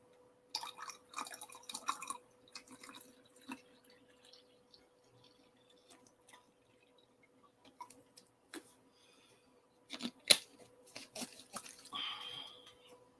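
Water swished around inside a container to mix something in, heard as faint, intermittent sloshes and small clicking drips in short bursts, with a sharper splash near the end and no talking.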